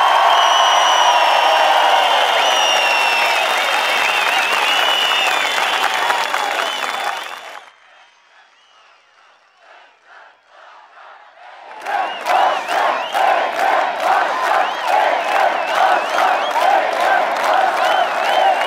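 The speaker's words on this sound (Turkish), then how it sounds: "bu kadar yüksek alkış, bu kadar yüksek bir tezahürat alıyorsa" Large outdoor political rally crowd at a CHP event in Amasya, Turkey, roaring with cheers and applause, then a brief lull before rhythmic chanting and cheering surge back, loud and massed.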